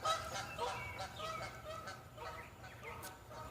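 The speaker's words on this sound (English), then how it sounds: "some geese flying through the air" A flock of geese flies directly overhead, giving repeated nasal honks in overlapping bursts. The calls are faint and distant against quiet outdoor background noise.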